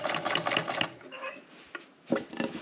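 A home sewing machine stitching fabric runs in short bursts of rapid rhythmic needle clatter, pausing between runs, quiet and close.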